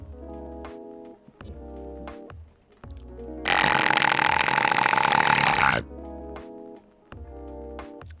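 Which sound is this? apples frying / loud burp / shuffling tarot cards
loud burp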